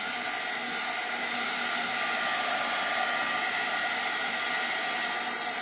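A handheld heat or air dryer blows continuously over a craft card, a loud, steady, close whooshing roar with no speech.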